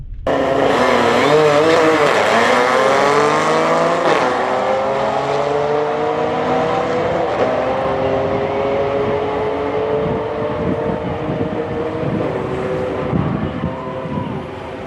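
A tuned 2012 Audi S4 with an Integrated Engineering tune makes a drag strip run, its engine loud and close as it revs up repeatedly through gear changes. It pulls hard throughout, with a faint tire squeal.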